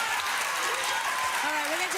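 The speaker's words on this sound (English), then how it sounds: "And they clap for that?" Applause from a crowd, a steady wash of clapping lasting a couple of seconds, with voices and a rising, whoop-like call audible over it.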